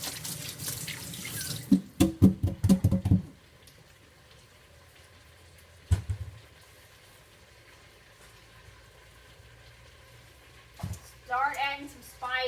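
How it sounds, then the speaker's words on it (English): A kitchen sink tap runs as hands are washed beneath it, a short splashing burst followed by a quieter stretch and a brief second gush, with a voice at the end. "And I'm going to wash my hands."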